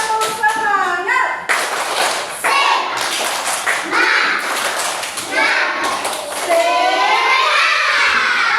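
A group of children performs the 'tepuk semangat' spirit clap in a classroom, with loud, rhythmic bursts of clapping and thumping mixed with shouted chanting voices throughout.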